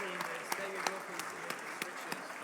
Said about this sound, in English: Let's give a big round of applause to Andrew Craig.